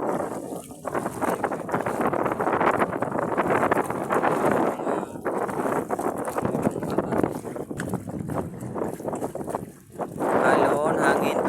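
Strong wind buffets the microphone over rushing water and splashing waves on rough sea aboard a squid-fishing boat, a rough, continuous roar with brief dips, while voices talk faintly in between.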